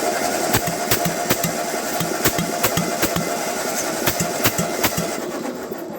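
A 1948 Ford 8N tractor engine runs on all four cylinders, chugging with a steady, slightly uneven beat of exhaust pops, loud and close with no talk over it.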